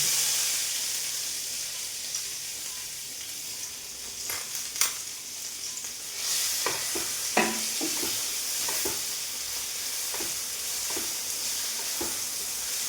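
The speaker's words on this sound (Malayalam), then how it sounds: "അതിനകത്തേക്ക് സവോളയും വെളുത്തുള്ളിയും എല്ലാം വഴറ്റി വെച്ചേക്കുന്നത് ഞാൻ നമ്മൾ ഇട്ട് കൊടുക്കണം" Onion and garlic sautéing in hot oil in a pan, a steady soft sizzle and hiss throughout with occasional stirring scrapes and clinks, close and fairly quiet with no talk.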